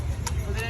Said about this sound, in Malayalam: നമ്മളപ്പോ കുതിരവണ്ടി പോവുകയാണ്